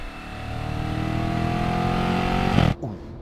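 A 2015 Audi RS5's engine drones steadily and loud, then cuts off into a short burbling pop from the exhaust as the revs drop.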